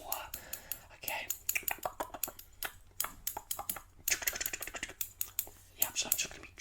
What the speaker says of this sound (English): I'm just going to start with trimming down the left and right sides. Just a dry cut